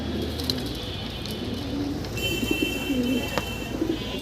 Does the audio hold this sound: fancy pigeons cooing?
yes